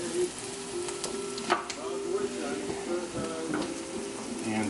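Onion, garlic and parsley sauté in a hot pan with a steady close sizzle and crackle, a few sharper pops and light stirring clatter through it.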